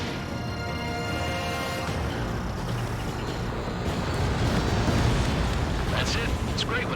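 A bomber is shot down in the jet combat game Ace Combat 7, a loud sustained roaring explosion that swells and rumbles for several seconds, with in-game radio voices over it.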